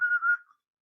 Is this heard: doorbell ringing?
no